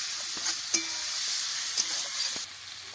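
Spice paste of ginger, chilli and turmeric frying in hot oil for ghugni made with goat fat, a steady close sizzle with a few sharp scrape and stir clicks, no talking.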